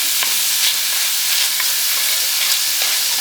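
Swiss chard and onion cook in a pan with a steady, close frying sizzle and faint stirring scrapes, no talk.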